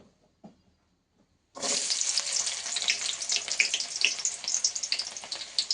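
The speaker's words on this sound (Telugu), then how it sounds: "నూనె వేడైంది కదా, ఇప్పుడు మనం ఉల్లిగడ్డ వేసుకుందాం." Onions dropped into hot oil for egg bhurji burst into a loud, crackling sizzle after a short quiet pause, then keep spitting and hissing steadily close by.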